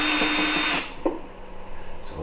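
A power drill whirs steadily while backing screws out of the cowl on a 1998 Yamaha outboard, then stops abruptly, leaving a brief clack and faint handling noises.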